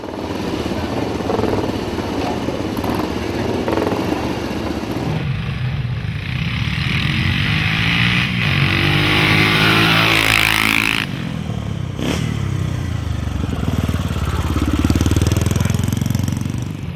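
BSA Gold Star motorcycles queuing for the hill at Brooklands, several single-cylinder engines idling and revving together in a loud, continuous drone, with a bike passing close by at one point.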